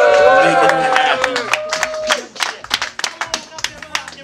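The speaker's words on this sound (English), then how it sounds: "Give him a round of applause for making it happen." A hip-hop concert audience in Zagreb, Croatia claps after a voice rings out over the crowd, then breaks into scattered, uneven hand claps that thin out toward the end.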